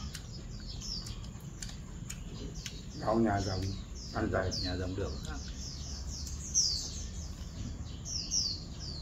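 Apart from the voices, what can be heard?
birds chirping outdoors on a fine day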